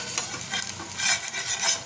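Capsicum and carrot stir-fry in a pan with a loud sizzle, while a utensil scrapes and stirs in busy, repeated strokes against the pan.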